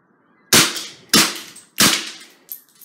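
A Luger-style BB gun fires three sharp, loud cracks about half a second apart into a laptop, each with a short decay, followed by a fainter fourth snap.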